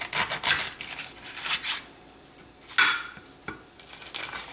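A knife cuts through the base of a freshly cooked, hot ear of corn, producing a few short scraping, crunching strokes spaced by brief pauses, close and fairly clear with no talking.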